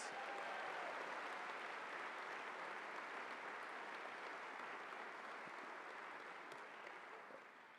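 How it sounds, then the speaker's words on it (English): Steady, loud applause from a large crowd at a university convocation fills the whole stretch, tapering off slightly toward the end. "Let's give them another big round of applause."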